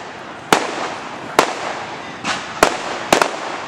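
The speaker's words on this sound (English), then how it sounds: "The fireworks display started a little bit before dark" A fireworks display at Conneaut Lake Park on July 5 at dusk, with sharp loud bangs and cracks arriving irregularly about every second over a crackling, rumbling background.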